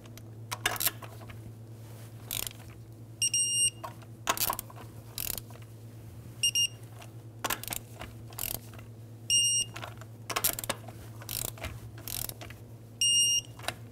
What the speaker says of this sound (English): You're gonna torque it in star pattern.